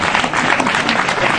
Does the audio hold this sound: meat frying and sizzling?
no